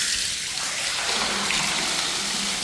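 Water pumped by a running motor gushes steadily into a rooftop tank, a loud, continuous broadband rush with no pauses and no voices.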